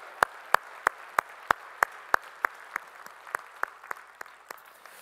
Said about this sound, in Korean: 우리 찬양을 받으실 우리의 몸짓을 우리의 목소리를 받을 주님께 영광의 박수 올리겠습니다